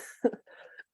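A single close, short cough burst with a throaty rasp, followed by a quieter breathy clearing sound; no talking.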